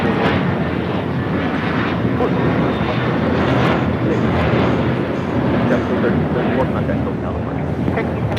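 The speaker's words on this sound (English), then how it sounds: "Taking off to Newark. This is an A321 JetBlue Airways Flight 1374." A JetBlue Airways A321 airliner takes off at LAX, a loud, steady engine roar with wind buffeting the microphone, sustained throughout.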